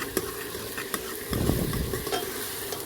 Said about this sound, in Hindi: अब इसको मैं थोड़ा इसी तरह छोड़ दूँगी अभी, जब तक प्याज अच्छी तरह से अच्छा वाला गोल्डन ब्राउन हो जाए।